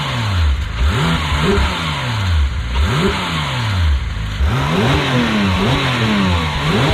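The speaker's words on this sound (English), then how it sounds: "and this is the stock exhaust." A Porsche 991.2 GT3 with its stock exhaust revs repeatedly from idle, each blip rising and falling in pitch, close and loud with no talking.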